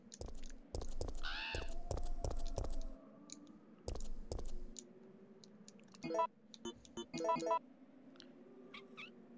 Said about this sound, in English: Too many crows.